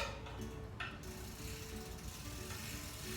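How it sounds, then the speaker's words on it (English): A bike pedal spun backwards with a wrench in the pedal spindle on an aluminum single-speed fixie track bike, producing a continuous close ratcheting, clicking mechanical whir. "put the wrench into the pedal spindle and just pedal backwards. That will automatically tighten counterclockwise."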